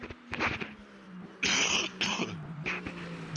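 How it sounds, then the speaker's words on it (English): A sim-racing commentator with a cold coughs a few times close to the mic, short harsh bursts with a throat-clearing quality, over faint background race audio. "I need to cough."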